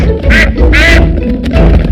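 Two loud, nasal cartoon duck quacks close together, followed by fainter quacking over a busy, cartoonish background, from a Peppa Pig cartoon.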